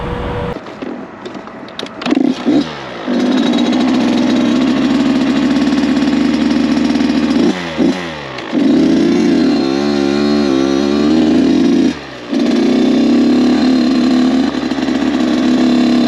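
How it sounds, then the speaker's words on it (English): A Kawasaki KX 85 dirt bike engine cranks over with a few sputtering catches, then fires and holds a loud, steady two-stroke idle broken by sharp revs and brief dips, close by with no talking. "you finally crank the hog over and listen to her"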